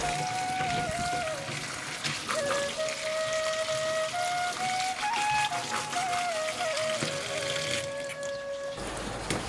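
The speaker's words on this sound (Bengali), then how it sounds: "বরবটি এভাবে কেটে তারপর ভালো করে ধুয়ে নিতে হবে।" Cut yardlong beans are rinsed under running tap water, with a steady splashing stream and occasional shifts in its pitch and flow. Near the end the sound cuts off abruptly.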